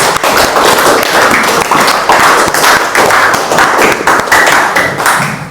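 An audience applauds a presenting group at a classroom practice session, with loud, sustained, dense clapping and scattered sharper slaps throughout.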